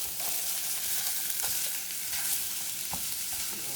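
Chopped meat browning in a skillet, giving a steady, even sizzle and crackle with a few small pops, continuous and undisturbed.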